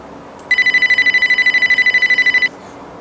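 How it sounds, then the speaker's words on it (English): Telephone rings loud and close for an incoming call, a rapid electronic trilling burst lasting about two seconds before stopping, with no talk over it. "Oh, yep, I can hear the ringing."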